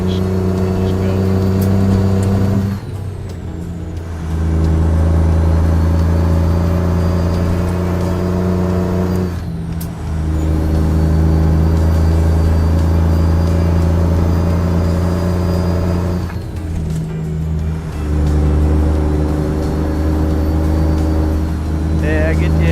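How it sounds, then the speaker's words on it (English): A truck engine in American Truck Simulator drones steadily with low rumbling hum and passing traffic, the pitch dropping and rising at a few gear shifts, loud and continuous, with a voice talking over it. "just listen to the truck, traffic and everything, man"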